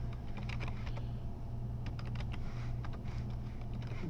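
Password typed on a computer keyboard, two short flurries of quick light key clicks over a steady low electrical hum, close and fairly quiet.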